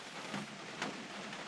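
Rain falling steadily on a rainy day at a campsite, a dense close patter with a couple of slightly heavier gusts of drops, no voices.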